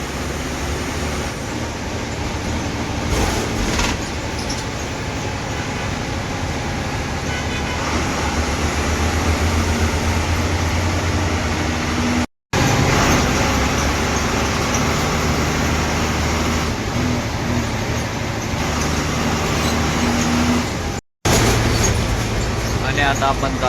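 Steady, loud rumble of an MSRTC Lal Pari bus heard from inside on a Dapoli to Pune run, continuous engine and road noise with two brief dropouts.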